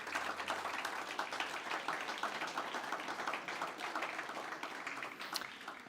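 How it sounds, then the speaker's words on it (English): Sustained applause from a large crowd at a cricket league event, dense and steady for several seconds, heard at a moderate distance with no speech over it. "can we please just give them a big round of applause?"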